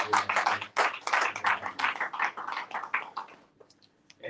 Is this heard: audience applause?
yes